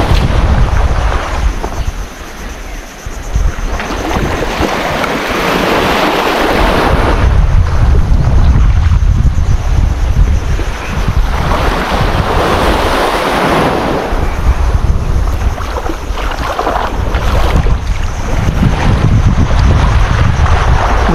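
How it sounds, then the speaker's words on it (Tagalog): Strong wind at the seashore while shore-cast fishing, loud buffeting gusts roaring across the microphone over crashing surf, rising and falling continuously with no voices. "Medyo mahangin eh."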